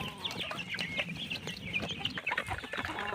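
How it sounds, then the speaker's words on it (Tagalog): Chicks chirp and cheep in a coop while being fed feed, a dense busy chatter of many small birds close by, with soft scuffling underneath and no talk. "ang ating sisiw"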